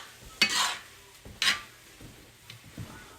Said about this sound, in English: now what I'm going to do is I'm just going to mix this in really good